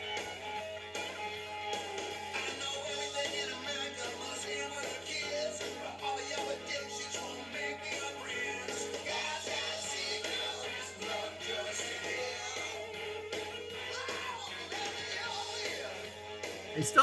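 A country-leaning rock track from 1994 plays quietly and steadily in the background, a full band mix heard at low volume.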